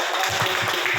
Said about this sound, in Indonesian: Ya, beri tepuk tangan dong.